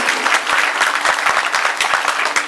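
An audience claps loudly and steadily at a Marathi kirtan, dense rapid hand claps filling the whole moment.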